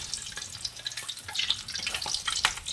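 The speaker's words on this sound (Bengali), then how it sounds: "এই যে ডুবো তেলে ভেজে নেবো" Fish deep-frying in oil kept on low heat, a soft, fairly faint bubbling crackle with scattered pops and spits, heard close up and without any voices.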